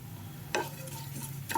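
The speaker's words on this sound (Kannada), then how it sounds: "ಲೋ ಫ್ಲೇಮಲ್ಲಿ ಫ್ರೈ ಮಾಡ್ಕೊತಾ ಇದ್ದೀನಿ." Coriander frying in a pan over a low flame gives a faint, steady sizzle, with two brief scraping stirs of a spoon.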